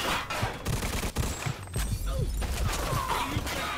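Rapid gunfire in the video game Mafia 2, a dense burst of repeated shots with fast irregular cracks running nearly continuously.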